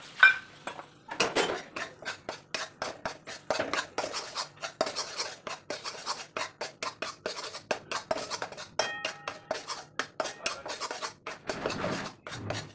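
A spoon repeatedly scrapes and clinks against a pan while masala with gram flour (besan), salt, coriander and fennel is roasted in hot oil. The strokes are steady and rhythmic, close and fairly quiet, with no talking.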